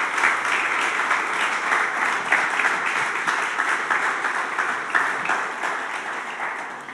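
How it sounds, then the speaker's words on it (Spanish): A Spanish-speaking church congregation at a morning service applauds the Lord, a loud, full wash of many hands clapping continuously for seven seconds, steady and close with no speech over it. "¿Por qué no le das un aplauso al Señor en esta mañana?"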